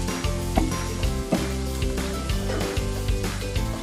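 A mixture of sweet corn, black pepper and red chilli powder sautés in a pan with a steady close sizzle, while the spoon scrapes and stirs in soft repeated strokes. No one speaks.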